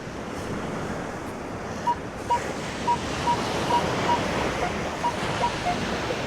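Surf rolling onto the beach at Nags Head, a steady close wash with wind buffeting the microphone and a series of faint short beeps ticking through the middle.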